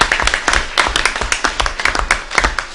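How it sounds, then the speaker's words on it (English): A school committee meeting audience gives a round of applause, dense and loud close claps in a steady patter filling the whole stretch. "If not, we give you a round of applause."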